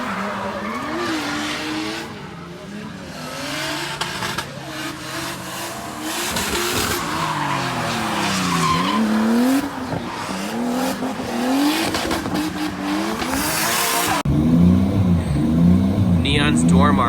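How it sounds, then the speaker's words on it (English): Drift cars on a Japan drifting trip rev hard and slide, engines rising and falling in pitch with squealing tires. The sound is loud, continuous and close, with people talking over it. "Rev it up a little bit, see what it does"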